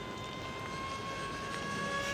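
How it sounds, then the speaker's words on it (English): A Ritewing Mini Drak model airplane in flight, its steady motor drone holding at an even level throughout with a faint tonal whine, distant and continuous, with no talk. "I know how this airplane flies."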